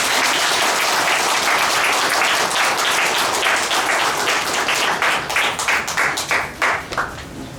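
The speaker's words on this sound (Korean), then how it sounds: "감사와 격려의 박수 부탁드립니다" An audience at a Korean press gathering applauds the reporters with a dense, loud burst of clapping that thins out toward the end into a few separate, distinct claps.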